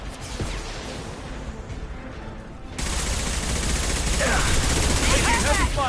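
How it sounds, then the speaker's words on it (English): Sci-fi weapons fire in the video game Mass Effect, a sustained rattling volley that jumps abruptly louder halfway through and continues densely, with brief voices mixed in. "Taking heavy fire."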